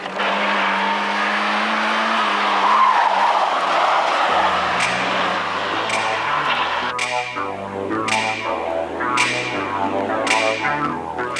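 A 1990 Renault 19 16S sports car is driven hard: the engine revs up and down through gear changes while tires squeal in short, sharp bursts, loud and close.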